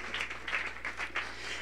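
A congregation applauds at a Catholic preaching service in Guatemala, a steady mass of clapping hands with a few louder swells, continuing throughout the short moment without any voices.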